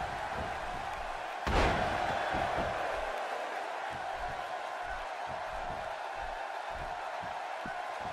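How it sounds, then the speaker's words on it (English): Wrestling arena crowd at a WWE Superstars match, a steady roar of cheering throughout with a sudden slam-like impact swelling the noise briefly, commentary-free stretch of sustained crowd din. "The crowd on hand tonight, clearly fired up for this match here on Superstars."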